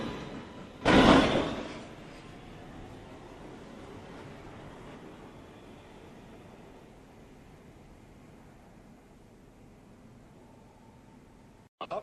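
New York City subway train doors at Chambers Street shut with one sharp, loud thud. A low, steady platform rumble lingers afterward, and a short clatter comes at the very end.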